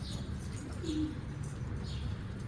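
A stray pigeon coos softly and repeatedly, the low throaty calls close by over a faint background hum, with no one talking.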